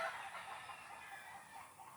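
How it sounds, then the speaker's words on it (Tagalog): Chickens at a rural poultry farm cluck in a steady, noisy chorus, a dense wash of fowl calls continuing throughout without anyone speaking. "Maingay dito kasi may manukan dito guys."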